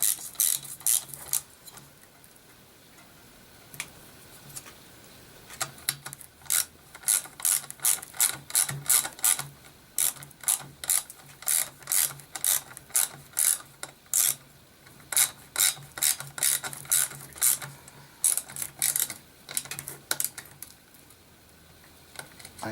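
Ratcheting clicks from a tool tightening bolts during an engine swap on a DBXL RC car, arriving in quick bursts of close, crisp ratchet-pawl ticks that stop and start across the clip with no talking.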